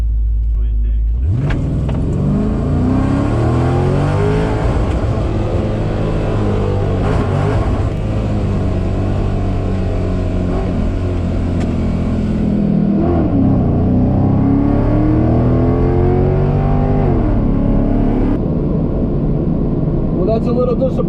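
A bracket-class drag race car with a repaired, upgraded transmission launches on a test pass at Virginia Motorsports Park, its engine roaring loud and close, climbing through gear changes and staying at full throttle.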